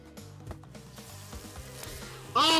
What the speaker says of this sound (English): I got picked in the butt by a bee!